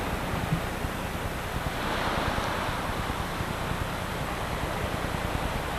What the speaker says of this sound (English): So this is the beach, the Halibut Point Rec Area.